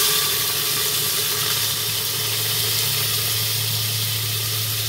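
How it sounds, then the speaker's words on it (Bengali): Chopped onions frying over a low flame in a pan with garam masala, a steady, close sizzling hiss with a low background hum, no voices. "পেঁয়াজটা আমি একটু ভেজে নিচ্ছি।"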